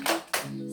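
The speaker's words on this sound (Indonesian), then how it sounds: "Oke, tepuk semangat." A classroom of students giving a rhythmic spirit clap, a quick burst of hand claps that cuts off and then repeats, fairly close and loud, with no talking over it.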